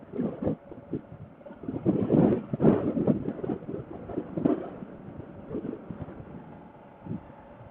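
Steady wind buffeting the microphone on a Kawasaki KLR650 motorcycle ride near Swan Falls, with rumbling gusts rising and falling throughout and no voices.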